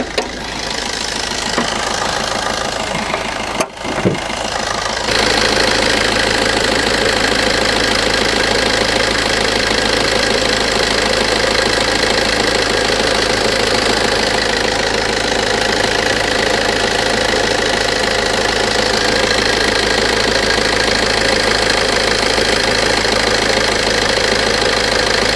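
Diesel car engine idling steadily during an outdoor vibration and sound test, a continuous close rumble with a knocking clatter that runs unbroken for about twenty seconds after a brief handling noise at the start, with no talking.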